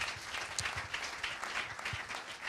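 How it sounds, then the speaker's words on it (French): A congregation applauding during a church service: dense, steady clapping from a crowd in a reverberant hall, continuing evenly for the whole stretch. "On peut encore applaudir une fois de plus"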